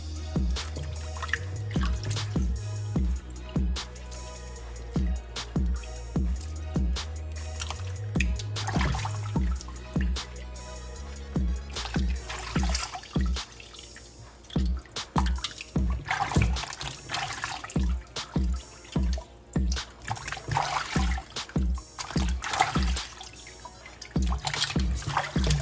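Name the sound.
washing turkey wings under running water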